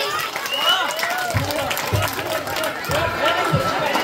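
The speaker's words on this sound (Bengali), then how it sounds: "হাততালি হোক সবাই মিলে" Audience at a school poetry recitation applauds the students, a dense, steady clatter of many hands that continues for about four seconds, with a voice talking over it.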